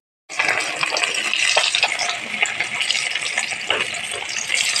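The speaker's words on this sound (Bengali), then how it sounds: "এবার বাকি মাছগুলোকে ভেজে নেব।" Koi fish fry in a pan with a steady, loud sizzle and crackle of hot oil, starting suddenly and continuing without talk.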